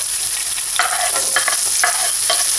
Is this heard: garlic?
yes